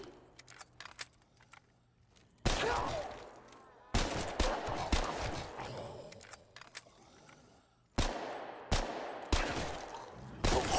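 A Thompson submachine gun fires in a video game, with several close, loud bursts of rapid automatic shots separated by brief pauses, each burst ending in a ringing tail.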